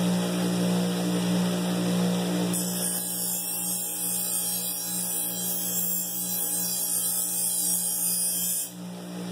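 An 8-inch paper wheel sharpener spins with a steady motor hum as a knife edge is polished against the white diamond compound to remove the burr, adding a continuous hiss for several seconds before lifting off.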